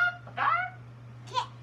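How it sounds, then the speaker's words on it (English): A hen lets out two short, squawky clucks close by, separated by a brief pause, over a faint steady hum. "it's a chicken or a hen."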